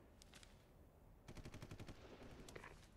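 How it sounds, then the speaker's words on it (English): Bursts of rapid machine-gun fire in the zombie video game Dead Rising, a short rattle early, then a longer sustained volley in the middle and another burst near the end, faint and distant over a game background rumble. "Gunfire."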